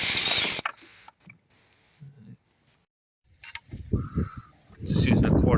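Quarter-inch drive ratchet with an 8mm socket on a Ford S-Max 2.0 TDCi during thermostat replacement, giving short bursts of clicking and metallic rattles between quiet gaps and brief handling noises.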